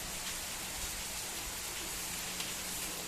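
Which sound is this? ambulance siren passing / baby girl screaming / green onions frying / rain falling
rain falling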